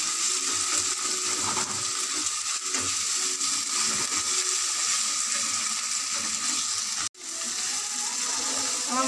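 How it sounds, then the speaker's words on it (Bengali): A spice paste of garlic paste and chopped tomato fries in a pan with fried onion, giving a constant bright sizzle with small scraping clicks throughout and one brief dropout. Close and steady, with no talking. "আমার মশলাটা ভাজা হয়ে আসছে।"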